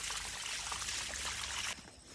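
Water suddenly gushing out behind an abandoned house, a loud steady rushing pour that drops abruptly to a quieter flow near the end.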